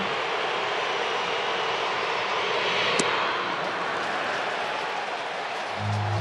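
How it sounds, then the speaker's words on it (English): A packed baseball stadium crowd roars in a frenzy at a Phillies playoff game against the Diamondbacks, with dense, sustained cheering throughout and a brief sharp crack partway in. "This crowd in a frenzy."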